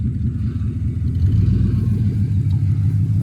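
A Ford Crown Victoria idles with a steady low engine rumble and a droning, whining tone from its worn power steering, close and continuous throughout.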